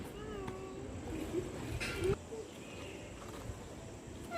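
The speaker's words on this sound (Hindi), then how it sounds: "ये बिल्ली फिर से आ गई।" A kitten meowing indoors at home: a couple of short, faint meows rise over low household background noise, with one louder burst partway through.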